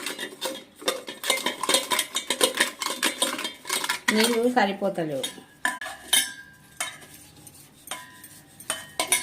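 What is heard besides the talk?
scrubbing and stirring brass pooja utensils in a bowl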